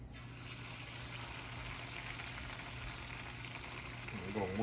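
Bread batter frying in hot grease, a steady close sizzle and crackle that holds evenly throughout, with a faint voice starting near the end.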